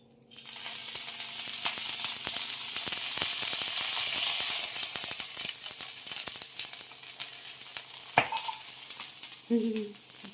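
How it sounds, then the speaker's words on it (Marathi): Cheese chilli toast on a hot tawa flares into a loud hissing sizzle as a few water drops hit the pan, then the spitting fades to scattered crackles and a couple of soft knocks. "तवा एक मिनिट त्याच्यावर आपल्याला दोन तीन पाण्याचे थेंब टाकायचे आणि झाकण ठेवायचं"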